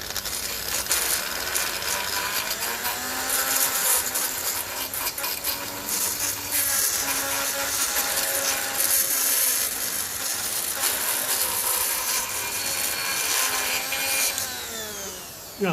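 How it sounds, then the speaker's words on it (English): A Dremel rotary tool grinds and cleans the earth connection on a Massey Ferguson 35 tractor, giving a steady, close, high-pitched whirring scrape whose pitch wavers slightly as it presses into the metal, running almost without a break before winding down at the end. "The Dremel in these cases, these jobs, is just super, super handy."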